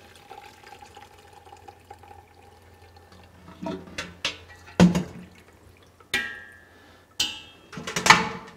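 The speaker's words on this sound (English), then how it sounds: "strain the veggies." Vegetable stock is poured through a colander, with faint trickling at first and then several louder splashes and sloshes of liquid and vegetables close by. No voices.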